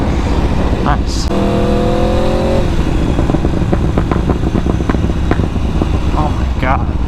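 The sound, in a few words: Aprilia RSV4 motorcycle exhaust revving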